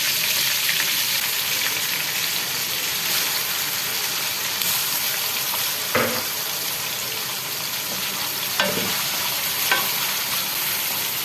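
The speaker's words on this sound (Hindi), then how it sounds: "जो व्यूअर्स यहाँ पर जो है ना ऑयल और बटर जो है अच्छे से गर्म हो गई है। अब हम इसके अंदर चिकन को ऐड कर देते हैं।" Chicken pieces going into hot oil and butter in a pan for a chicken paneer handi, making a steady close sizzle and fry with a few soft stirring knocks.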